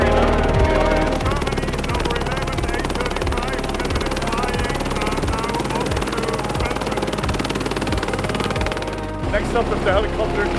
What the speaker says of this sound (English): Next up is the helicopter